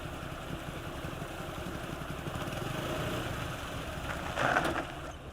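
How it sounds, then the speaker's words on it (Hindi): A motorcycle engine idles as the bike comes to a stop, a low, steady putter nearby that swells slightly near the end, with no talk over it. "बाइक क्यों रोक दी भैया?"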